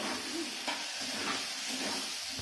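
Chili powder and tomato fry in a pan under a soft, steady sizzle, with quiet periodic scrapes of stirring.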